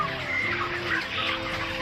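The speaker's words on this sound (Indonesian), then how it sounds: "Nah, ini ada ayam masih utuh ini." Broiler chickens cluck in a dim closed-house poultry barn, many birds overlapping in a constant close chorus with short pitched calls over a low mechanical hum.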